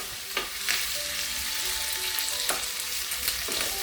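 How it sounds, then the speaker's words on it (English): Onions and Scotch bonnet pepper for a coconut curry prawn dish sizzle in hot oil while being stirred, a continuous close frying hiss broken by a few sharp utensil scrapes against the pan. "And we're just going to stir it around like"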